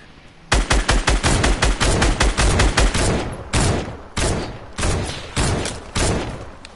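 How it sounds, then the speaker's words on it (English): Rapid, loud gunfire in a Fortnite match: a fast automatic burst of about a dozen shots, then slower evenly spaced single shots, close and dominant with no talk. "They're shooting at me now."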